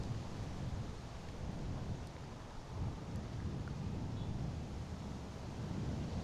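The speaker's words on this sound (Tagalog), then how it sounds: "Strong wind." Strong wind buffets a microphone outdoors during a DJI Neo 2 drone flight, a continuous low rumbling roar that stays loud and steady throughout.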